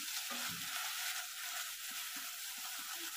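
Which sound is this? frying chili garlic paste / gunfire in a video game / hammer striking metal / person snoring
frying chili garlic paste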